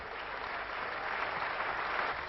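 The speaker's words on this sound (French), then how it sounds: "Les groupes socialistes et communistes se lèvent et l'applaudissent." Applause in the French National Assembly as Socialist and Communist deputies rise for Édith Cresson in 1991: a dense, even wash of many clapping hands, muffled and somewhat distant, continuous throughout.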